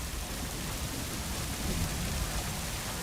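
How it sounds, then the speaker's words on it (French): Rain falls steadily outdoors, a dense, even hiss of drops that fills the whole stretch without pause, fairly loud and close with no other sounds standing out. "Il pleut."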